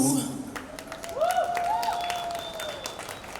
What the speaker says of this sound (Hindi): तालियां और बजा दीजिए एक बार फिर से